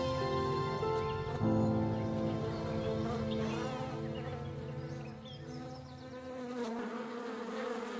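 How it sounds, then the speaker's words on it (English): Honeybees at a Ukrainian hive in spring make a dense, steady buzzing of many wings, close and continuous, with layered overlapping tones that swell and shift throughout and no voices. "While some bees venture out in search of spring blossoms, others remain in the hive, tidying up after the winter."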